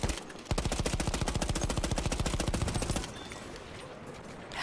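Rapid automatic fire from the Sentry elite class machine gun in Battlefield 1, a long, evenly spaced burst of loud, close shots that cuts off abruptly, leaving faint background battle noise.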